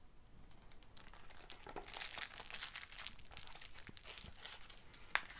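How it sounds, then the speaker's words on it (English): Small plastic packets of guitar hardware, knobs and pickguard screws for a black limba Strat build, are crinkled and torn open in a steady run of close, rustling crackles with a few sharper snaps, no voices. "I'm gonna take everything out of these little packages"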